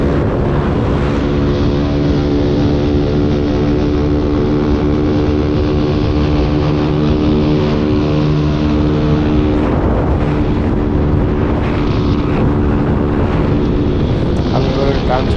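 Motorcycle engines on a morning group ride roar continuously and loudly, with strong droning harmonics and shifting revs as riders draft and pull ahead, mixed with heavy wind buffeting.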